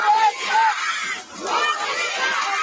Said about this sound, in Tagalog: Ayan o, sigaw ng taong bayan, bumalik ka na.